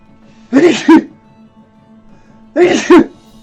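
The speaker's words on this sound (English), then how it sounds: "I'm gonna sneeze." Two sneezes, close and loud, each a quick two-part burst about two seconds apart, with quiet background between them.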